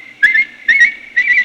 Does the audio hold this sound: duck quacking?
no